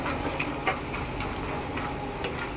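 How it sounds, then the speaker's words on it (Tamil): Dried vegetable vathal of sundakkai, mithukkai, okra and cluster beans frying in a pan: a loud, continuous close sizzle with faint crackles and light stirring clicks, no talking. "சுண்டக்காய் வத்தல், மிதுக்காய் வத்தல், வெண்டி வத்தல், கொத்தரங்காய் வத்தல் இப்போ நல்லா வதங்கிடுச்சு."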